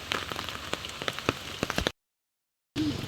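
Rain patters on umbrellas in a close, uneven run of drops and taps over a soft hiss, breaking off into a short silence before resuming.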